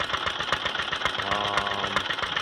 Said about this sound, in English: a little tinkering with the engine, and it runs pretty good actually